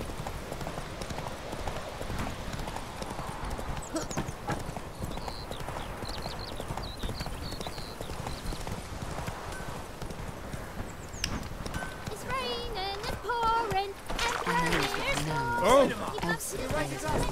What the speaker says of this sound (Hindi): अपन अपनी घोड़ी के ऊपर बैठ चुके हैं और अपने को अब जाना है